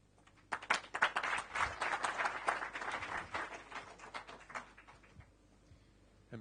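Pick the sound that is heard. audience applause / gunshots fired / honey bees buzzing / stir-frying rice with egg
audience applause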